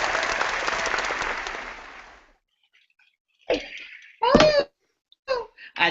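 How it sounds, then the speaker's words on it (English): Applause at a pre-launch event, loud and dense for about two seconds, then falling silent before a few short voices break in. "Got your applause in here."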